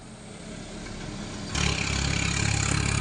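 A Honda 50cc motorcycle engine in original condition runs steadily nearby, its broadband mechanical drone stepping up sharply in loudness halfway through and holding there with no talking.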